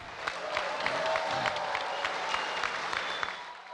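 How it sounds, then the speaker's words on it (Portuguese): Guests at a presidential palace swearing-in ceremony applaud steadily, a moderately distant wash of clapping with a few sharper individual claps standing out. "Os convidados aplaudiram."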